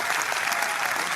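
Gallery of golf spectators clapping at a tournament's 18th hole, a loud steady wash of applause from many hands, with no clear voices.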